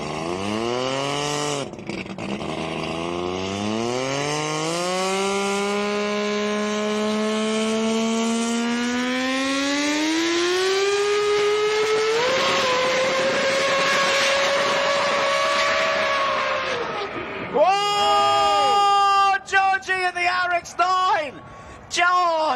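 A time attack race car with a Billet 20B rotary engine, recorded at a track event, revs hard with a rising engine whine. The run ends in a burst of harsh skidding and scraping, with fiberglass bodywork grinding and clattering loudly.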